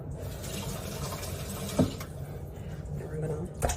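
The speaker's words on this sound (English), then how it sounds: "We're gonna take our whisk and we're going to rinse it" A whisk is rinsed under a running kitchen tap, water splashing and gushing steadily at moderate volume with a couple of sharper knocks, while someone talks.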